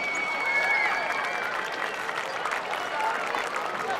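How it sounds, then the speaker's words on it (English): A crowd applauds cadets at a high school football game with sustained clapping, joined by scattered cheers and whistles from an audience, some distance away. "Please give these fine young cadets a round of applause."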